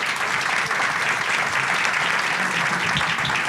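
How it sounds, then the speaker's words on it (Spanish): An audience at a lecture in Uruguay breaks into strong, sustained applause, dense even clapping from a full room held at a steady loud level for the whole stretch, with no talking over it. "un fuerte aplauso para Mario"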